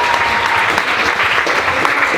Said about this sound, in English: Everyone give a round of applause for our comedic talent over here.